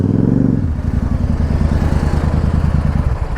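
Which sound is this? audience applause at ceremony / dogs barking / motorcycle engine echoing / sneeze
motorcycle engine echoing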